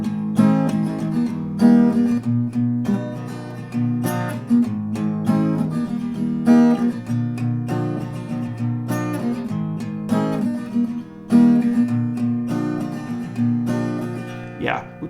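An acoustic guitar strums the chords of a song in a steady, rhythmic pattern, played close and clear for several rounds with no talking over it.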